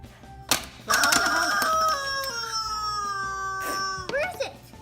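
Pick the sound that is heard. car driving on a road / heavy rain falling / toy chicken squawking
toy chicken squawking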